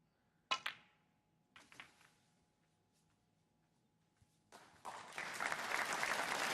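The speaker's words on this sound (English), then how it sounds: "he got a bit of applause for this shot" A snooker crowd bursts into applause after a shot, preceded by a couple of sharp ball knocks; the clapping swells and holds steady, fairly distant in a quiet hall.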